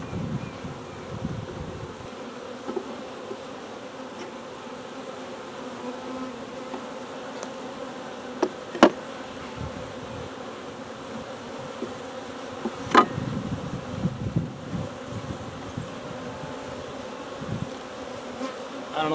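Agitated honeybees buzz constantly around an open hive during a first inspection, making a dense, close drone. A few brief knocks and clicks from handling the hive break through it, and no voices are heard.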